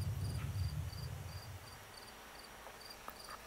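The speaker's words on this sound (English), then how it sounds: "this game is realistic cricket noises" Crickets chirp in The Last of Us Part II: faint, steady rhythmic pulses over a low ambient rumble that fades after the first second.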